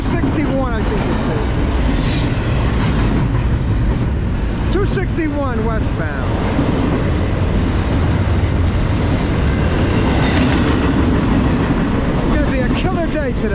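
A Norfolk Southern freight train, NS 261, led by two rebuilt AC44C6M locomotives, rumbles past close by with heavy, continuous rolling noise and squealing wheels, while a voice speaks briefly over it.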